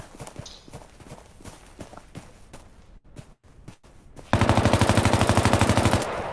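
Automatic machine gun fire from a weapons squad in a military video game: scattered shots and ambient battle noise, then a loud, sustained rapid burst of evenly spaced rounds close by for the final two seconds.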